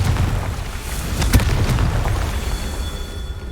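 Confringo explosive spell in Hogwarts Legacy, a single sharp blast bursting loudly over a rumbling, crackling background of combat noise.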